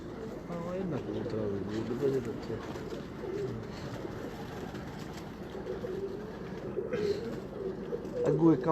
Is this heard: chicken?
no